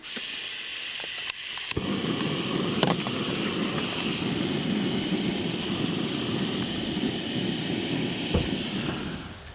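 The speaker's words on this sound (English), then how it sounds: "So today we're using the old faithful jet boil." A Jetboil camping stove burning outdoors, a steady loud roaring hiss that starts abruptly after a few faint clicks and holds evenly close by, with no talking.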